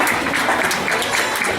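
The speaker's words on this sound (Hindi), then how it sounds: "श्रीमान और श्रीमती श्री राम, उनके लिए भी जोरदार तालियां।" Steady applause from a crowd at a wedding, a continuous wash of clapping with no pauses and no voices.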